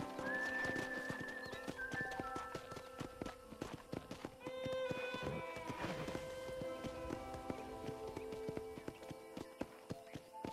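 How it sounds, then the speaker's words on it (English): A black horse in the Red Dead Redemption video game clip-clops along with steady hoofbeats and gives a whinny, set over layered game music and ambience at moderate volume. "Ah, yes. The good old black horse."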